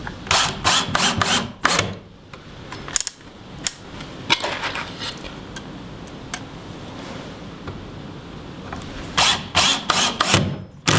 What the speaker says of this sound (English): Find the right setting on this drill to not to put too much in here.